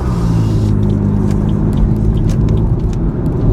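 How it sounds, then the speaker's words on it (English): Cars driving past outside a parked car with its window open, a loud, steady close-up rumble of passing traffic and tyre noise with no talking. "it's really cool seeing the cars drive by and stuff"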